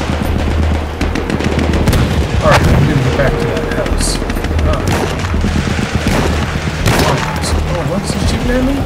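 Battlefield 1 combat: continuous loud gunfire with rapid bursts and sharp individual shots, plus booming blasts, dense and close throughout.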